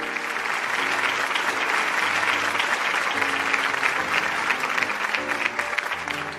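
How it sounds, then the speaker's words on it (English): Steady, dense applause from an audience honoring award recipients at a virtual honors ceremony for Black women attorneys, continuous clapping at moderate level with little else over it. "please give a virtual round of applause for all of our 2020 Founders and Zenith Award recipients"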